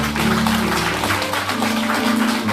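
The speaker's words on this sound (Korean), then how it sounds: "축복의 박수 부탁드리겠습니다." Guests at a wedding ceremony give sustained blessing applause as the mothers light the candles, a dense steady wash of clapping from a crowd heard over music.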